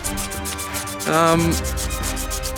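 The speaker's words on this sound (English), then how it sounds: "it's important to hit it with a bit of sandpaper first, right round the outside edge" Sandpaper rubs around the outside edge of a 3D-printed resin model in steady, repeated strokes, close and fairly loud, with a brief harsher, tonal scrape part-way through.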